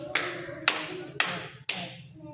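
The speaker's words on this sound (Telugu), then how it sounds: "ఎన్ని క్లాప్స్ ఇవ్వాలో ఎన్ని స్నాప్స్ ఇవ్వాలో చెయ్యి నాకు" During a children's maths counting activity, a child makes four crisp hand sounds, claps or finger snaps, spaced about half a second apart, close by in a quiet room with short ringing decays.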